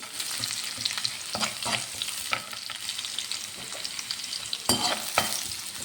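Ginger and garlic pieces being sautéed in a pan for a beef fry, with a soft steady sizzle broken by scraping stirs and a louder clatter near the end, no talk.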